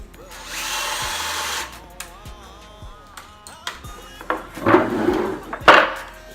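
A power drill whirs in short bursts while drilling pilot holes, with several sharp clunks and knocks between runs and a louder grinding burst near the end.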